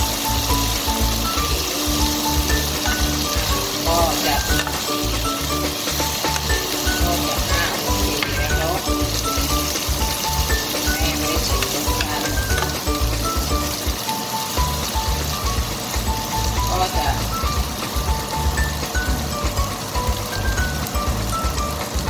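Food is stir-fried in a pan, a dense, loud, unbroken sizzle like heavy rain, with faint clinks of stirring running through it.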